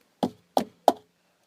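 Three firm knocks on a wooden front door, evenly spaced and close, standing in for a donkey banging it with its nose, followed by silence.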